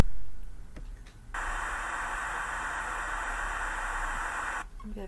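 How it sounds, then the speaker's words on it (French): Brown noise generated in Audacity plays as a steady, loud, even rush for about three seconds, then cuts off abruptly, with quieter background sound before and after. "ajouter alors ces bruits, les bruits browniens."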